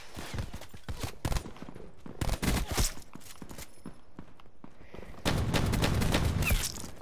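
Pistol shots in Call of Duty Black Ops 4 gun game mode ring out in short separate bursts, fairly quiet, with scattered footsteps-like clatter and little talk.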